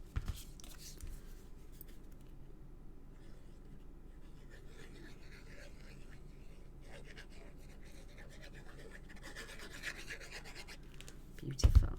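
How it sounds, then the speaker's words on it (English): Layered patterned paper is rubbed down onto a tri-fold shutter card by hand in a steady, soft, continuous scratchy rub, faint and close, ending with a sharper handling noise. "Now after a while I just give it a good rub down, make sure everything's adhered on properly."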